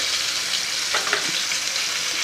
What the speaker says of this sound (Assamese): প্ৰথমতে মাছখিনি ভাজি লওঁ